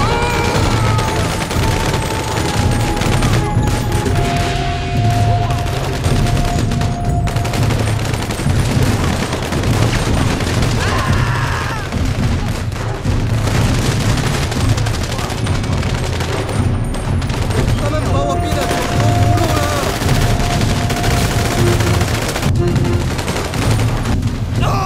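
Gunfire in GTA 5 crackles nonstop as dense, loud bursts of automatic and single shots, layered with game sounds and occasional voices throughout.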